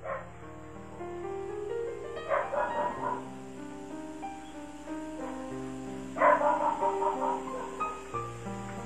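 A dog barks and yips in short bursts with whimpering tones between them, heard close and fairly clear with no talking.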